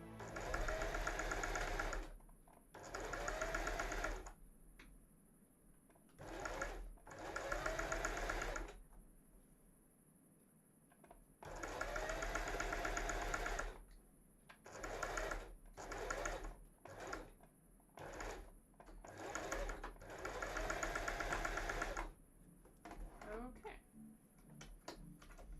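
A sewing machine stitches a cosplay garment in repeated bursts of rapid whirring, with short pauses between runs.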